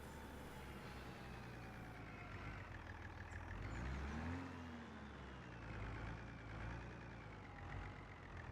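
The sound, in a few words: engine noises in video game Farming Simulator 25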